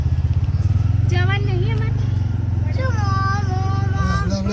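Small three-wheeled auto rickshaw engine near Vadnagar railway station, a steady low throbbing idle-like drone running throughout, with people talking over it.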